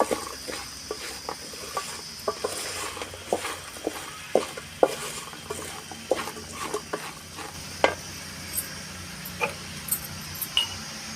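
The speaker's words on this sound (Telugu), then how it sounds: "సగం చెంచాడంతా జీలకర్ర మెత్తుల పొడి మంచిగా కలుపుకోవాలి" Spoon stirring ground cumin into a dal mixture in a pot, giving soft scraping strokes and light taps in an uneven rhythm over a faint background sizzle, close and fairly quiet.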